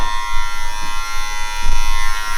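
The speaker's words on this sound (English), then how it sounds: "You take your clipper, you want to shape it up a little bit" An electric hair clipper shaping a beard, giving a steady close buzzing hum with a couple of brief soft brushing touches, no talking.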